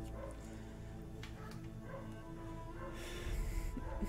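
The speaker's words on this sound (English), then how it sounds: "I can hear Nixie and Triton barking their heads off" Two dogs bark and whimper in the background of a home, muffled yips and bow-wows rising over a steady hum of electronic game sound.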